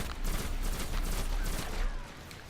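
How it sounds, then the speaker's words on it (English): Rapid bursts of gunfire in the Destiny alpha shooter, a dense stuttering volley of shots at moderate distance, fairly loud and continuous for a couple of seconds. "They're shooting somebody."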